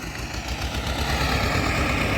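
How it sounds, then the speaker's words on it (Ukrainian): Tractor engine labouring steadily while ploughing dry stubble with a slightly damp crust, wheels slipping; a continuous rumbling drone with no talk, holding an even, fairly loud level throughout. "Тракторець з пробуксовкою йде"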